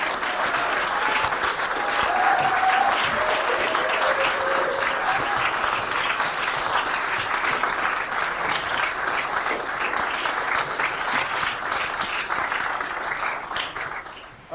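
Sustained, dense applause from a large crowd at a party leadership election announcement, honouring the election staff. It stays loud and even for many seconds and fades near the end, with a brief faint voice early on.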